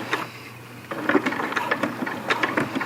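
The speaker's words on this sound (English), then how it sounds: "I've got my machine turned down really slow. I'll just do a few stitches, back it up." A sewing machine set to a slow speed makes a few stitches and backstitches on a DIY hammock underquilt, giving soft, irregular mechanical taps and whirs, close but fairly quiet, with brief gaps between bursts.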